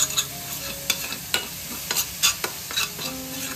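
Leftover green masala hits a little oil in a kadhai, a soft sizzle broken by repeated sharp scrapes and clinks of a spoon stirring the pan.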